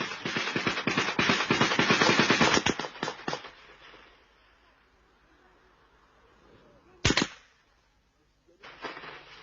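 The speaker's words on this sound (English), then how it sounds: "comrades open fire as soldiers are spotted unexpectedly" Gunfire erupts during a 1985 ambush in Uganda, with a dense, rapid burst of shots up close, then a lull before a single sharp report and the start of another burst.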